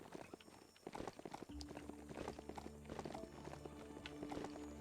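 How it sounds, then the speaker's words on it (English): A summoned horse-like mount in the video game Biomutant clip-clops along with quick, light, regular hoof taps, faint and steady, over a soft game ambience. "Can I please summon my horse here?"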